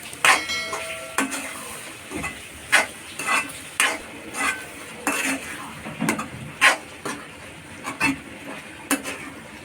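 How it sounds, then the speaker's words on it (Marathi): Mashed vegetables for pav bhaji are mixed and fried in masala in a pan, with repeated scraping and clanking of a spatula against metal in a steady rhythm over a soft background sizzle. "ह्याच्या स्मॅश केलेल्या पूर्ण भाज्या मिक्स करून घ्यायच्या मसाल्यामध्ये फ्राय करायचे"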